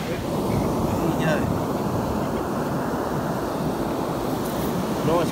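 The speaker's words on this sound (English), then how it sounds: "This wind's all over the shop and it's going offshore and it's everywhere." Surf rolls onto a beach under gusty offshore wind, a constant loud roar of waves and wind buffeting the microphone throughout, with no clear speech.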